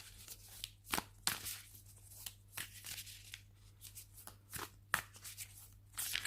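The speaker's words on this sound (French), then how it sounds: "je vais déjà mélanger le tarot" Tarot deck being shuffled by hand, a close series of crisp riffling card flutters and soft taps in irregular bursts, with no talk.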